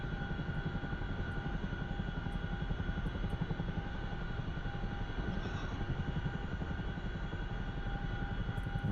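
Aircraft engine in the DCS World flight game during an emergency takeoff, a steady loud droning roar with a rapid rhythmic pulse throughout and no voices.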